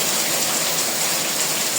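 Steady rain hissing down, a dense, even wash of drops with no breaks and no voices.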